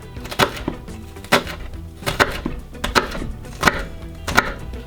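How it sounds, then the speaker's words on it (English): A knife chops a shallot on a cutting board in a kitchen, six sharp, evenly spaced knocks over a few seconds, close and distinct with no talking. "when I now cut the shallot"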